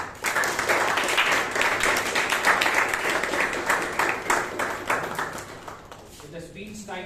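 Audience applause at a Bangalore Toastmasters meeting welcoming a speaker to the stage, a sustained wash of many hands clapping that fades near the end as a voice begins speaking.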